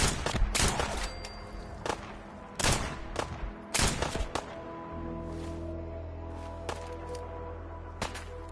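Rapid gunfire in Fallout 4 combat: sharp, loud shots cracking in quick bursts and volleys early on, then spaced single shots over a low sustained hum.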